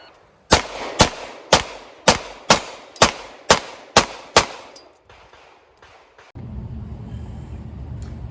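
Glock G17 and G47 pistols fire at a GSSF shooting match, ten sharp, loud shots in an even, rapid string about half a second apart, followed by a few faint clinks and steady background noise.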